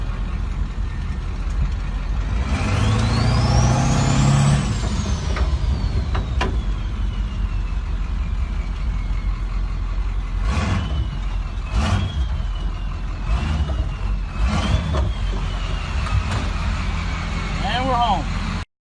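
A heavy 7.3 Powerstroke diesel engine in a Bronco rumbles close by, rising in pitch as it accelerates then dropping as it shifts gears, with brief hisses and squeaks; a person talks intermittently.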